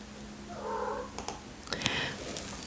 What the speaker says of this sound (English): One of my little cats made a little sound.